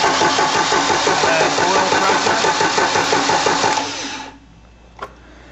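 A Mercruiser 3.0 marine engine being cranked over, a loud steady rhythmic churning of the starter that runs for about four seconds then stops, followed by quiet with a single small clunk.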